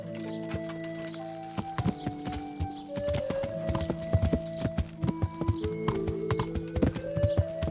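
Horse hooves clip-clop steadily in the Kingdom Come: Deliverance video game. The hoofbeats are close and irregular, over a sustained musical or ambient drone.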